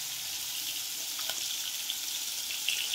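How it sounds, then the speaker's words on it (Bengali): Fish pieces fry in hot mustard oil, a steady close crackling sizzle with brief popping bursts near the end, no talking. "তেল গরম হয়ে গেছে, মাছের টুকরোগুলো এক এক করে তুলে দিচ্ছি। মাছের টুকরোগুলো ভেজে নেব।"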